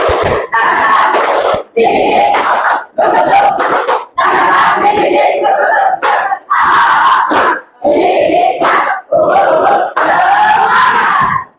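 An Indonesian school class performs the tepuk semangat chant, loud near unison shouting of a group of students in rhythmic bursts of roughly a second each, with short clapped beats and brief pauses between phrases, repeated around ten times.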